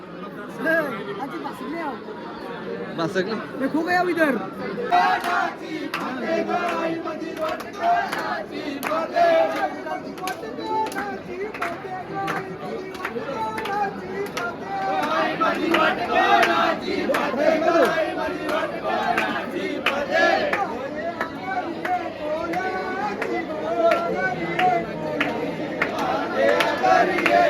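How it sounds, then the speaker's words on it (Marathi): A large crowd of pilgrims packs a temple on a palkhi pilgrimage to Karla hill, filling the space with dense, continuous babble, shouts and overlapping voices that swell louder toward the end, with nearby people talking. "बरीच गर्दी आहे काय रे भरपूर गर्दी आहे"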